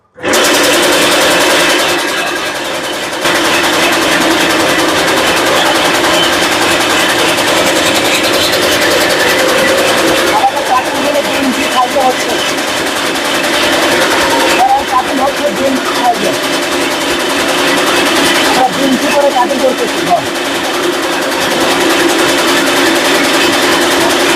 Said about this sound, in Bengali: খড় কাটার জন্য মেশিন স্টার্ট করতেছি।